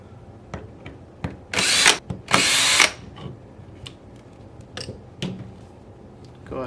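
A power drill loosens the receiver screws on a 2011 A5 paintball marker: two sustained whirring bursts, near and moderately loud, among small clicks and handling taps in a quiet room.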